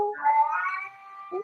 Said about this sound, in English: now let's just relax with some meows in the background